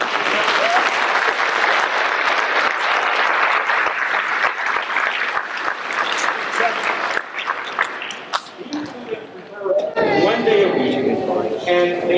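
A crowd at a middle school winter concert applauds the beginning band with dense, steady clapping for about ten seconds. The clapping then thins out and gives way to other sounds.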